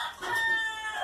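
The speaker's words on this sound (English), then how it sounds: "Yeah, fucking chickens." Backyard chickens cluck nearby while a rooster's crow drawn out into a sustained high note carries through, brief and moderately loud with no talking.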